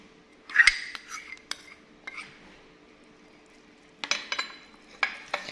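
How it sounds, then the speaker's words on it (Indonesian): Milk and grated cheese are stirred together in a bowl with a utensil, making sharp clinks and scrapes against the side in short bursts separated by quiet pauses. "Diaduk hingga merata."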